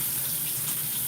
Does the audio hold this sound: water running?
yes